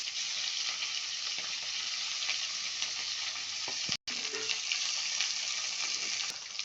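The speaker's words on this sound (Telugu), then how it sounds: "నూనెలో వేపుకోవాలి." Chicken 65 pieces fry in hot oil with a steady, dense sizzle that runs throughout, close and loud, broken by one very brief drop near the middle, with no talking.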